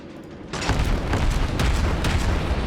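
Cruiser gun salvo in World of Warships, Tier 8 Mikhail Kutuzov, erupting after a quiet moment into a loud, sustained rumbling roar of overlapping booms.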